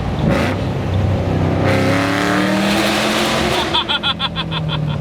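Supercharged 2008 Shelby GT500 making a hard third-gear roll-on acceleration: a loud engine roar climbs steadily in pitch from inside the car, then gives way to a choppy, pulsing exhaust note, with faint voices underneath.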